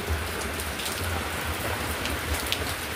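Heavy rain pours down in a dense, unbroken hiss, loud and close, with faint low thumps underneath and no talking.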